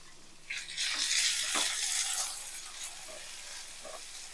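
Onions and green chillies frying in a pan, a bright steady sizzle that swells strongly for a couple of seconds, then settles into a softer crackle with a few stirring clinks.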